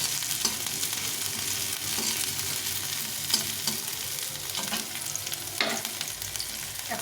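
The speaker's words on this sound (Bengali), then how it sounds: "পেঁয়াজ রসুনটা একটু ভেজে নেব।" Chopped onion and garlic fry in hot oil for a chickpea masala, giving a steady, close sizzle with scattered stirring clicks and scrapes throughout.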